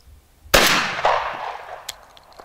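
A single loud gunshot from a Remington firearm cracks sharply outdoors, followed by a long rolling echo that fades over about two seconds.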